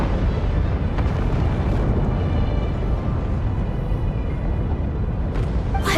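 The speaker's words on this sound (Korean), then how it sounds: "화산 폭발!" A volcanic eruption in a video game, heard as a loud, dense, continuous roar and rumble that fills six seconds without letting up, with no voices over it.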